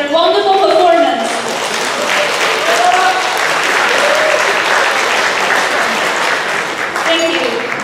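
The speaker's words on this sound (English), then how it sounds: "let's give them another round of applause for their wonderful performance" Loud, dense audience applause after a dance performance at a graduate house high table dinner, continuous clapping throughout with voices speaking briefly at the start and near the end.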